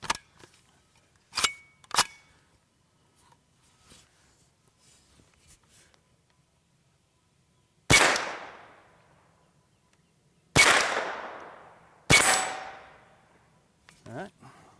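Three loud, sharp gunshots from a Kalashnikov USA KR-9 fired at a range while zeroing a red dot sight. Each crack rings out and decays, spaced a few seconds apart, with fainter clicks and handling noises around them.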